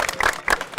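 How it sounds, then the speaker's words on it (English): A few hands clap in short, uneven bursts at a security gathering, roughly three or four distinct claps close by, brief and loosely timed rather than a full ovation. "Clap for yourself for that"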